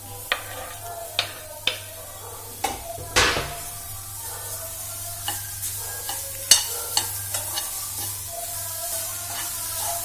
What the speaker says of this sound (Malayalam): വേവിച്ച് വെച്ച് നമ്മളെ കോളിഫ്ലവർ ഇട്ട് കൊടുക്കുന്നുണ്ട് നന്നായിട്ട് ഇട്ട് കൊടുത്ത് ഇളക്കിയതിന് ശേഷം